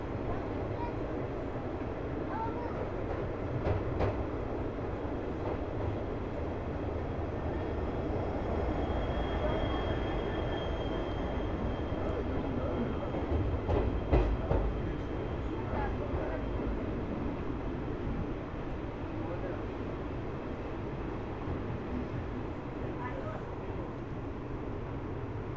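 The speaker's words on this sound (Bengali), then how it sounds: "দেখে মনে হচ্ছে পাহাড়ি এক্সপ্রেস স্কিপ করতে চলেছে শিলিগুড়ি জংশন।" Paharia Express passenger train rolling slowly through Siliguri Junction, a steady low rumble of wheels and carriages under continuous ambient noise, with a brief faint squeal midway.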